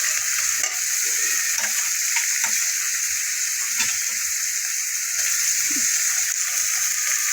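A steady, crackling sizzle of onion, garlic and ginger paste frying in a hot pan, continuous throughout, with occasional soft scraping from stirring.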